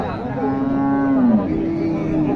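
A cow at a rural cattle market in Naogaon, Bangladesh, gives a loud, close, drawn-out moo that bends in pitch and carries into a second lowing phrase, with no talking over it.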